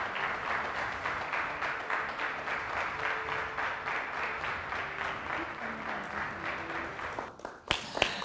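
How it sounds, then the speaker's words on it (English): Dense, sustained clapping from a group paying midday tribute to healthcare workers during the COVID-19 pandemic, an even wash of many hands that stays steady before thinning out with a few louder scattered claps at the end. "Every Wednesday at midday, we unite in clapping for the heroes and heroines among us."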